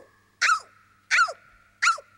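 A human voice imitates a dog, giving three short, loud barks spaced about a second apart over a faint steady background tone, in a film scene from Coming to America.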